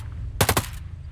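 A short automatic burst of gunfire from the Ghost Recon Breakpoint video game, about four rapid loud shots in under half a second, then the low background rumble continues.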